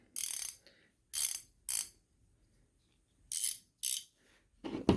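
A socket wrench's ratcheting mechanism clicks in short buzzing bursts, five quick close ratchet runs separated by pauses, followed by a duller knock at the end.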